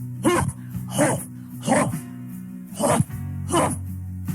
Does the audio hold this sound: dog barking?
yes